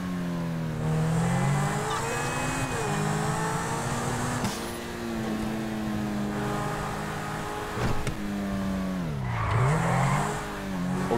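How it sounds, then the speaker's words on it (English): Engine revving and tire squeal from a car in Grand Theft Auto V, the motor rising and falling in pitch through repeated accelerations and skids, loud and continuous with no talk over it. "I gotta say, I like the car sounds in this game."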